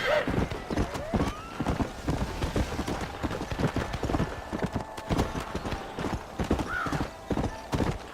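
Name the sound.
horse hooves in video game Red Dead Redemption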